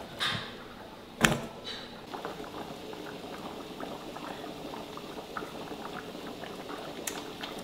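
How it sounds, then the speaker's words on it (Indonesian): A pot of beef tripe curry (gulai kikil) bubbles steadily at a rolling boil, with soft popping and gurgling throughout, close by, plus a couple of sharp clanks near the start. "Kalau udah mendidih ya, itu sekali-sekali diaduk"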